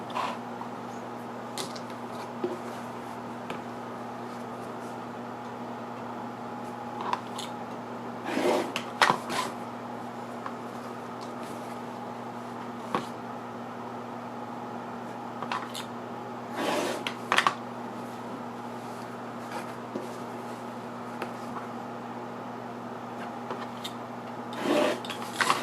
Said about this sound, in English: Now we'll trim the front of the block